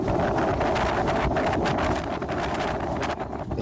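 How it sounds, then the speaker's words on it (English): Strong outdoor wind buffeting the microphone, a constant loud rushing roar over a muddy field in rainy weather, with no clear speech. "It's so windy."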